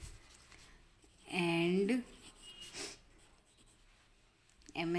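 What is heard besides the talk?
writing with a pen on paper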